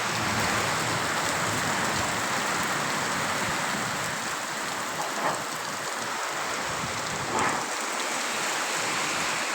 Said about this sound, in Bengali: বৃষ্টির শব্দটা হয়তো শোনা যাচ্ছে